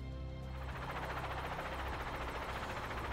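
A helicopter's rotor drones with a steady, loud, broadband whir throughout in the video game Psycho-Pass: Mandatory Happiness, with no talk.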